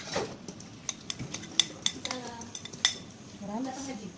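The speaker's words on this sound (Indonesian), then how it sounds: "Ya, sekarang kita masukkan bawang." Onions go into a cooking pot while preparing a regional Subulussalam dish, heard as a run of light metallic clinks and scrapes of utensil on pot, with soft talk in the background.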